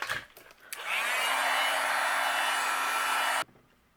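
A heat gun blows with a steady, loud whoosh for about two and a half seconds while it melts embossing powder on a plaid card background, then cuts off abruptly.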